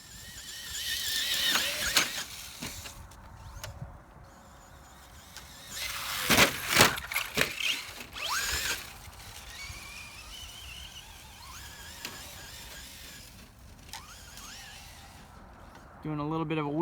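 A Traxxas Slash 4x4 VXL brushless RC car drives and pulls a wheelie, its electric motor whining and rising in pitch over outdoor background noise, close to the microphone, with a person talking over it at times.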